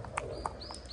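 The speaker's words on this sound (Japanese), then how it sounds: "鳩とか住んどる。" Pigeons cooing inside an abandoned, derelict apartment building in Busan, short soft coos and chirps over a hollow background hum, a few calls in quick succession.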